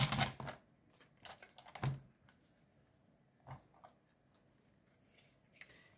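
Scissors snip through strips of material for a small gift pouch, a few sharp, close cuts spaced irregularly with quiet pauses between them.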